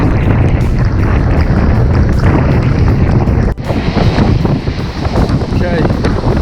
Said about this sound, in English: It's absolutely massive wind.